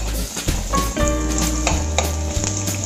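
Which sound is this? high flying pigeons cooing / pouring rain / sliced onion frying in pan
sliced onion frying in pan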